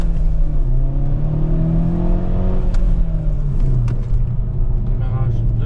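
A Hyundai i30N Fastback in sport mode accelerates hard with a loud engine roar rising in pitch through a gear, heard from inside the car, with a voice talking over it.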